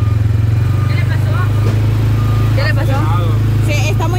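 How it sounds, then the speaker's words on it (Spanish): A vehicle engine revving by itself, racing unevenly with nobody on the throttle, holding a steady loud drone under people talking nearby. "Es que él solo se está acelerando."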